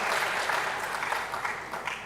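Audience applause at a university moot court competition session, a dense steady clapping from a crowd in a hall, moderately loud and unbroken for the whole stretch.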